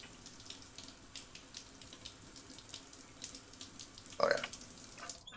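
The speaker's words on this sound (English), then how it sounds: "Let's take another quick shower, get our hygiene levels back up" A shower runs in the space-survival video game Stationeers, a faint steady hiss of falling water with a brief louder splash near the end.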